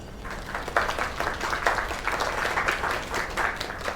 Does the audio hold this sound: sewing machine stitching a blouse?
no